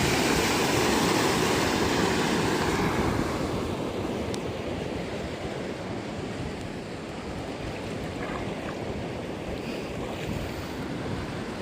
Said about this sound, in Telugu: మొన్న పడ్డ వర్షాలకి ఈ వాగు పొంగి పొరలిపోతుంది